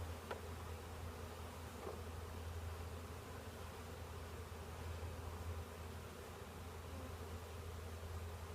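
Honeybees from a package being installed into a hive hum in a faint, steady drone, continuous and even throughout with no voices.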